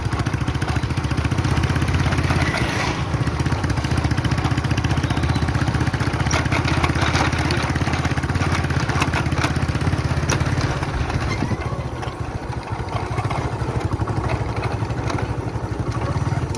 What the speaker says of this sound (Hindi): बाइक का लगता है पेट्रोल ख़त्म हो गया, जो इस तरह से खुश कर रही है